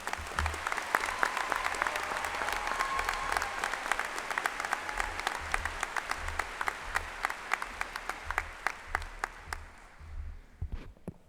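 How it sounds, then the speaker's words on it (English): Sustained applause from a large crowd at an Ohio State University commencement ceremony, steady and full for most of the clip before thinning into scattered claps at the end. "Let's give them all a round of applause again."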